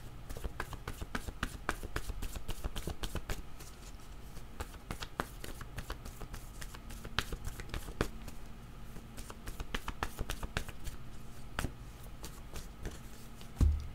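A deck of cards is shuffled for a card reading in a rapid, steady run of crisp riffling snaps. They sound close and continue for the whole stretch.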